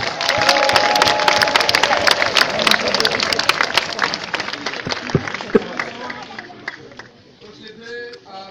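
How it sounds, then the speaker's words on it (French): A congregation applauds and cheers at the consecration of a Methodist temple in Koumassi, Ivory Coast, loud crowded clapping with voices mixed in that gradually thins and fades toward the end. "Manière symbolique, on acclame le Seigneur."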